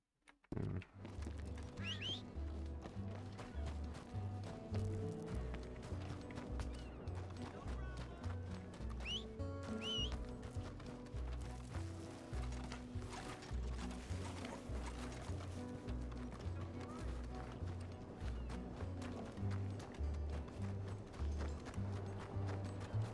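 Horse hooves clip-clop steadily in a Red Dead Redemption 2 game scene, with a rhythmic gallop drawing nearer, occasional snorts and a whinny, and game ambience underneath.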